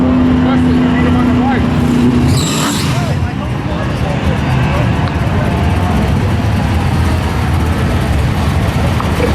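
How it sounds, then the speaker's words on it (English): An 85 Corvette and a Challenger drag racing at Raceway Park in Englishtown, NJ, giving a loud, steady engine roar that fills the whole stretch, with a brief tonal whine early on and an announcer's voice mixed in. "Corvette versus Challenger, Bob Gay at a Fairlawn. 85 Corvette."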